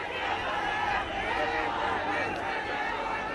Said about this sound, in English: were you anticipating crowds like this in this campaign?